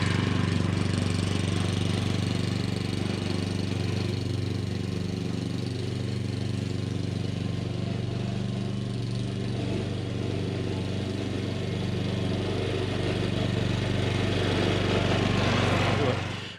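A cylinder mower's small engine runs steadily while cutting grass, a continuous close drone with a constant low hum throughout and no breaks.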